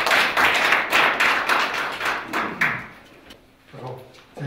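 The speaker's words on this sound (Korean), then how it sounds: "자, 박수 쳐주세요." Audience clapping at the opening of a city policy debate forum in Jecheon, South Korea, loud and fairly close at first, then thinning out and fading into scattered claps and faint room noise.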